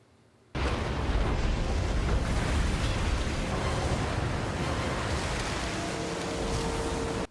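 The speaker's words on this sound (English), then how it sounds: "That's a big wave." A big wave crashing in the animated Star Wars series The Bad Batch: after a brief quiet moment, a sudden, loud, broad roar of rushing water surges in and keeps thundering steadily for several seconds.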